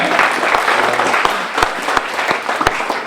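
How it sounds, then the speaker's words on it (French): Audience at a chess tournament's opening ceremony in Cap d'Agde applauds a Ukrainian player, a dense, loud wash of clapping with a few sharper close claps standing out. "Je vous demande de l'applaudir, elle vient d'Ukraine."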